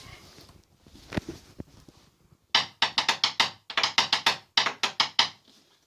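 A household door struck with a bodhran beater produces a rapid run of sharp, loud, slightly tinny knocks in quick bursts, following a few quieter taps and handling noises at the start, with no talking.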